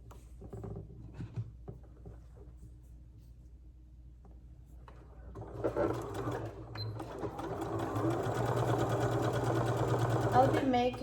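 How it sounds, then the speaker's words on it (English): A sewing machine stitches a fabric ear saver for a face mask. After a quiet stretch with a few soft sounds, it starts up midway and runs in a steady, close, fast stitching chatter that builds slightly louder to the end. "All right, so we're gonna start sewing here."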